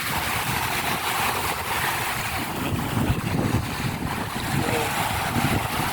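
Steady rush of surf and wind at a sandy island beach on Ko Kut, Thailand, a continuous broadband wash with gusty low rumble, no voices.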